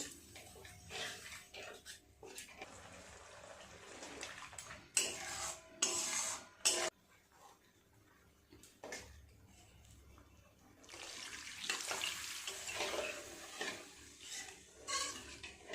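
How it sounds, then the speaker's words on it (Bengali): Water from a rinsed spice bowl is poured into a cooking pan of fish gravy, splashing and rushing in a few bursts with quieter clinks of the bowl between them. "মশলার বাটিটা ধুয়েই জল দিয়ে দিলাম, আরও কিছুটা জল দেব।"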